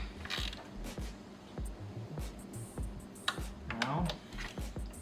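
Torque wrench tightening bolts on a 2011 Chevy Cruze Eco, giving faint, close ratcheting clicks in short bursts with a few sharper metallic snaps, quiet throughout.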